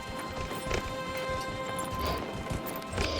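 Horse hooves clip-clop at a steady trot in the video game Dragon Age Inquisition, a continuous rhythmic pattern of moderately loud hoofbeats over soft game ambience.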